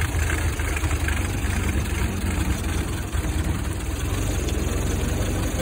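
A Ford Model T's engine runs steadily while the car drives along, a continuous low mechanical drone with rattling vibration, close and loud, with no speech.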